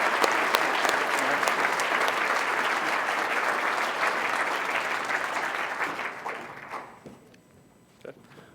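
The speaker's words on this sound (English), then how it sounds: "Join me in giving an applause for this group of wonderful organizations." Audience at a grant breakfast applauds a group of grant recipient organizations with dense, sustained clapping that holds steady for about six seconds, then thins out and fades to a few scattered claps.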